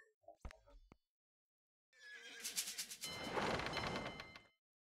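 Horse neighing in a video game, a single loud, drawn-out whinny rising and then fading, preceded by a couple of short knocks and clicks, with no one talking.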